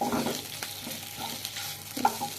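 Mashed potato mixture is stirred in a pan for a potato-filled fuluri. A spatula scrapes and taps quietly over a faint sizzle, and there is no talk.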